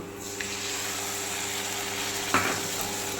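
A paste of ground mustard, melon seed and cashew is stir-fried with spices for prawn malai curry, making a steady, even sizzle with one brief scraping stir near the end.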